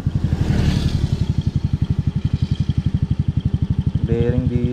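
A Mio Sporty motorcycle with a faulty front bearing gives off a rapid, regular low pulsing vibration that runs throughout, close and fairly loud, with a brief voice near the end.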